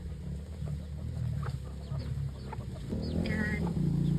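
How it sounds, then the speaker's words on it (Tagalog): Farmyard chickens cluck softly and intermittently against a steady low background hum, with several birds calling near and a brighter burst of clucks toward the end. "Basta marami na tayong manok."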